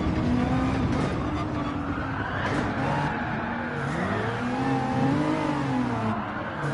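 A racing car at Suzuka Circuit in a video game, its engine holding a loud, steady drone whose pitch climbs and dips through gear changes, with possible tire squeal and a voice faintly beneath.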